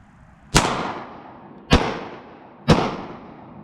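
Three loud shots from a Springfield XD .45 caliber pistol, spaced about a second apart, each a sharp close report followed by a long reverberant decay.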